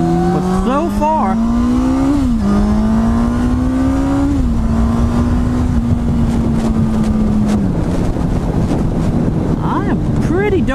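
Motorcycle fitted with a -1 +1 Superlite sprocket riding hard on a first ride, a loud close engine drone rising and stepping through gear changes under heavy wind roar.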